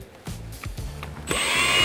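Power drill biting into the plastic floor ribs of a Denago Nomad vehicle, a few short revving pulses before the motor spins up into a sustained, rising whine, close and loud.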